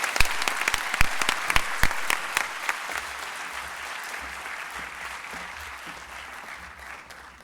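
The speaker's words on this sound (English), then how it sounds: "Please give them a round of applause." Audience applause at the inaugural ceremony of the 2015 World Lung Health Conference in Cape Town, beginning with several sharp claps over a dense wash of clapping that gradually thins and fades over several seconds, with no voices.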